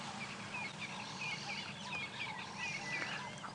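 Nest of baby birds calling on a sunrise safari drive, faint repeated high chirps and peeps over a steady low background hum.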